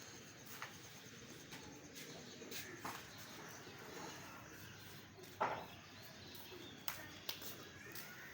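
A flock of six pigeons flying outdoors, faint cooing and soft calls among scattered rustles and wing flaps.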